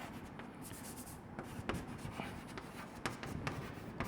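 Chalk or marker writing an equation on a classroom board, soft scratchy strokes and taps coming in short irregular bursts, close and quiet, with no talking.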